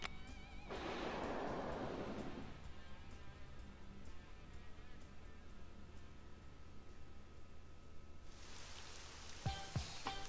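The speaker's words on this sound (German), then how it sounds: "Oh, puh, es regnet hier ja." Steady patter of rain in the video game RollerCoaster Tycoon 3 fills the scene, with a heavier hissing swell early on and again near the end, plus a couple of sharp ticks.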